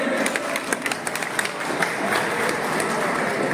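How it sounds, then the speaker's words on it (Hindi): Applause from an audience at a blockchain technology presentation, a brief burst of clapping with a few sharp individual claps standing out over a steady roomy wash of sound. "इसके लिए तो एक जबरदस्त तालियां होनी चाहिए"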